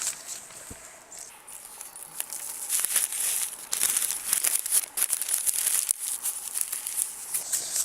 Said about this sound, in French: je vais juste mettre du papier